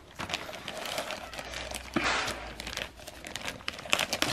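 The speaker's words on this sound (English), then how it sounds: "We'll open the bag. This little Ziploc bag." A small Ziploc plastic bag being opened makes close, irregular crinkling and rustling that goes on throughout, fairly quiet, with no talking.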